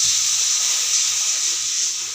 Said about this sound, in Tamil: இனி தண்ணி எடுத்து ஊற்று